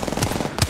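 Gunfire in Apex Legends, two short sharp bursts of shots over a busy game background, close and fairly loud.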